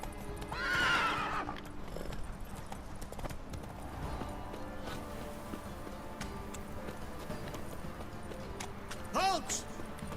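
Roach, a horse in The Witcher 3, neighs at the start and again near the end, with faint hoofbeats and ambient game sound running between the whinnies.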